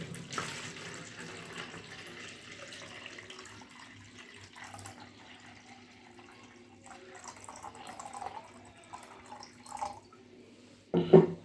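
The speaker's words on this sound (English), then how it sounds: "Add water" Water runs and trickles into a plastic bottle for a homemade plant-watering system, a soft, close, continuous pour with faint drips, ending in a brief louder splash, and no talking.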